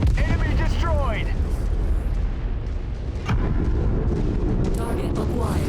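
Explosion destroying an enemy mech in the video game MechWarrior 5, a loud sustained rumbling blast with bursts of crackle, while a voice talks over parts of it.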